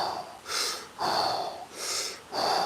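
Deep breaths drawn and released during a slow squat exercise, three long rushing inhale-exhale cycles close to the mic, each a breathy swell with a slight nasal snort edge.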